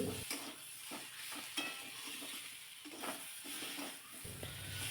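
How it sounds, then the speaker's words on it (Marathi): Brinjal sautés in oil with a spice tempering, a soft continuous sizzle broken by repeated scraping stirs of the spoon, fairly quiet and close, with no voices. "वांगी अशीच या मसाल्यामध्ये तेलामध्ये फोडणीमध्ये परतून घ्यायची"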